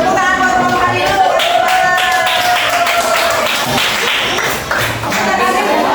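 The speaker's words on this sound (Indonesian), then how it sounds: "Tepuk tangan buat kelompok tadi dulu" A classroom group claps together for a student group, steady and continuous throughout, fairly loud and close with crowd noise mixed in.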